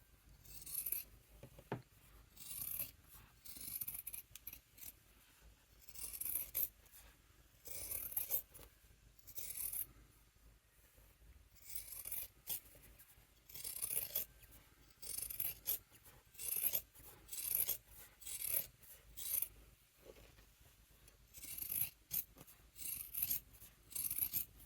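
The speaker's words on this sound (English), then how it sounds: "Now I'm going to trim this seam in half." Scissors snipping repeatedly close up as a fabric seam on a Christmas stocking is trimmed, crisp irregular cuts with brief pauses and quiet handling between them.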